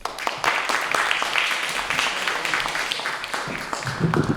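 Audience applause welcoming a poet to the stage at a 2019 poetry slam at the Barron Arts Center, a steady wash of many hands clapping that fills the room for several seconds without a break.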